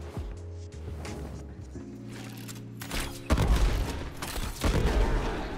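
Explosive bow shots from the Kuva Bramma in the Warframe video game, a few dull thumps followed by a louder cluster of bursting booms over steady game music, with no talking.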